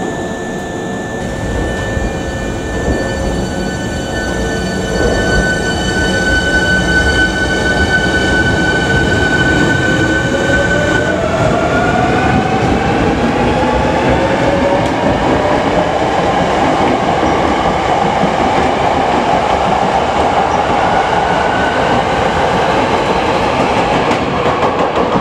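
A Hankyu Kyoto Line semi-express electric train stands at Takatsuki-shi station, loud and close, its motors giving sustained whining tones that shift and slide in pitch over a steady mechanical roar, with no speech.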